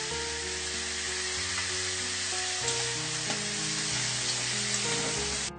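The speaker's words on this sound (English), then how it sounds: "Fry it until all these vegetables turn into brown color." Beans, carrot and potatoes frying in a pan, a continuous close sizzle that stays even and loud throughout, with no voices over it.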